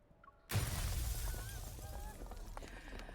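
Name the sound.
glass window shattering on an upper floor, from a video game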